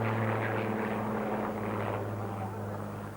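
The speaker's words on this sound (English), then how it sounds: "the Supermarine Seafire" A Supermarine Seafire fighter flies past at an airshow, its piston engine and propeller making a steady droning roar that fades slightly over a few seconds.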